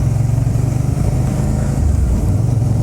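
A car engine idles on a high-altitude mountain pass between Zuluk and Nathula, giving off a steady, close low rumble that runs loud and unbroken under wind noise with no talk.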